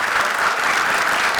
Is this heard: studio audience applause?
yes